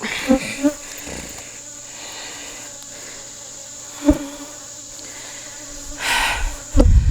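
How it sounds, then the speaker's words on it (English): A close, steady buzz of aggressive bees droning around, broken by a few sharp knocks and a louder rustling burst near the end. "sometimes you just have really aggressive bees"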